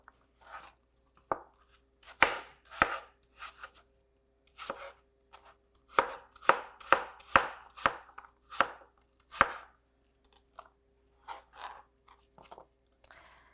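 A knife chops an apple into small cubes on a cutting board, crisp crunchy strikes coming in irregular clusters, close and distinct in a quiet room.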